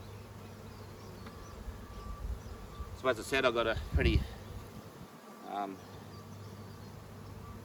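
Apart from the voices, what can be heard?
honey bees fanning at a Flow Hive entrance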